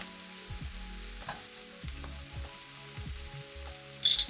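Onions, mushrooms and kale fry in a pan over medium heat, giving a close, steady sizzle broken by rhythmic scraping stir strokes and a brief louder clatter near the end, with no talking.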